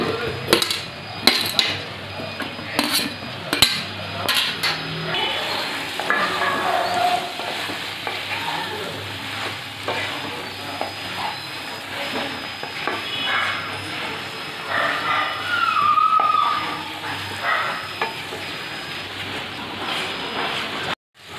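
Young jackfruit stir-fried in a pan with home-ground spices for a Bengali egg curry gives a steady, close sizzle, broken by repeated scraping and stirring strokes across the pan. No one speaks.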